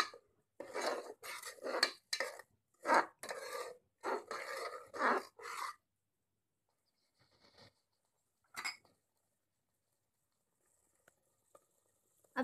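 Ground onion paste being stirred and fried in a pot for a chicken curry, a run of close scraping and clinking strokes from a spoon against the metal, then a few scattered taps.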